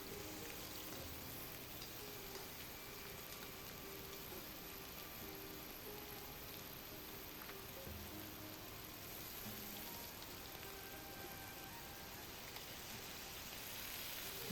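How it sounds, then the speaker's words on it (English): Pork ribs searing in hot cooking oil in a heated pan, a soft, steady sizzle and crackle throughout, faint and continuous with no talk. "Sear the ribs for a minute on each side."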